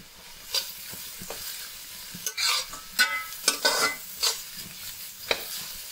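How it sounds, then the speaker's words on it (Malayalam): Crushed small shallots tossed into a hot pan for beef peralan hiss and crackle, with repeated loud scraping stirs and spatula knocks in irregular bursts, nothing spoken. "ഉള്ളി ചതച്ചത് ഇടുകയാണ്."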